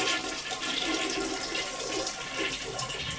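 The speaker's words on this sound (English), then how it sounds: "Yep, that is the sound of a toilet." A toilet flushes in one continuous rushing surge of water, loud and close, lasting a few seconds with no voices.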